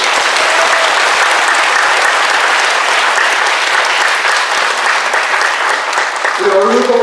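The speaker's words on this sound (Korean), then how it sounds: "떠난 이들 위해 우리 격려의 박수." A church congregation applauds in encouragement at a Sunday service, steady sustained clapping from many hands filling the room, with voices briefly audible near the end.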